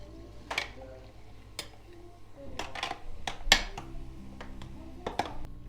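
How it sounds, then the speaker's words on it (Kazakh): A spoon stirs a lime mojito in a glass, giving a few irregular clinks against the glass with quiet gaps between them. "Енді барлығын жақсылап қасықпен араластырамыз."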